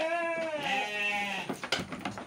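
Sheep bleating loudly at morning feeding time in a farm pen, one long wavering bleat up close followed by shorter calls and clatter from the flock.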